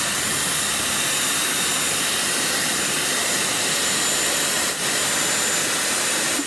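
A Dyson Airwrap hair styler with a long barrel runs at close range, a steady loud high-pitched airflow whoosh that holds constant throughout with no talk.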